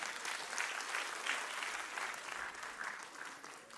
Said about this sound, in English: Let us appreciate them with another round of applause.